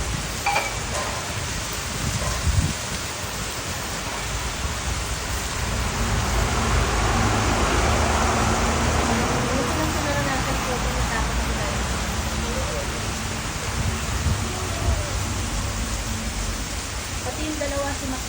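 Heavy storm rain pours down hard and continuously, a dense loud hiss of drops hitting surfaces that swells in the middle, with voices faintly under it.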